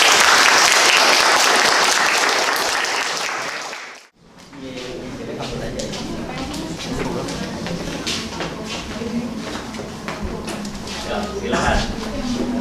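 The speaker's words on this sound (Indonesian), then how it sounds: "Kita berikan aplaus dulu untuk" An audience at a student data structure project presentation breaks into loud, dense applause that fades out, then gives way to a speaker talking over light room noise.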